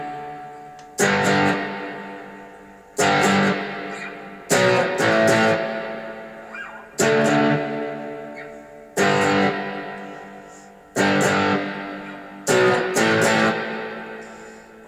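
Distorted electric guitar hits full power chords in a rock band arrangement, with seven loud, sharp stabs spaced about two seconds apart, each ringing out and slowly fading before the next one lands. No one talks over it.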